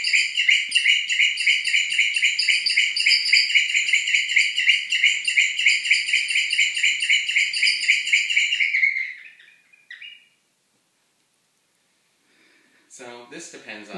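Fast high whistling trills from a small flute imitate excited chattering birds, a bright steady stream of chirps that stops abruptly, followed by a short silence and then a brief burst of other sound.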